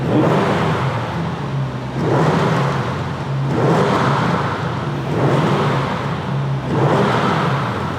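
A tuned Audi RS6 engine by ABT revs repeatedly in loud, rising surges, each burst of throttle followed by a brief dip, with a deep rumble throughout.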